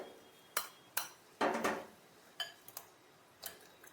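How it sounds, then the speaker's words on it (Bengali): Eggs cracked one by one into a separate bowl while cooking chilli chicken: a series of sharp, close taps and clicks on the bowl's rim, with a short crackling burst in the middle, and no talk. "ডিমগুলো ফাটিয়ে নিচ্ছি আগে"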